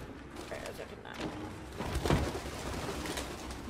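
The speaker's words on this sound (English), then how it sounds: "More pigeons." Pigeons cooing in Detroit: Become Human, soft low coos in a game ambience with faint mechanical clatter, moderately close and never very loud.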